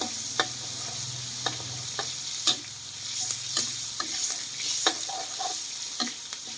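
Garlic stir-fries in a hot pan as the first step of Thai stir-fried long eggplant, a steady close sizzle with repeated sharp scrapes and clacks of a spatula against the pan, no voices.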